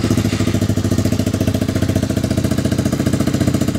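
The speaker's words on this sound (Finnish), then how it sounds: "eli mopo käyntiin ja menoksi." A small Honda Grom moped engine runs steadily close by, with a fast, even, throbbing putter and no voices over it.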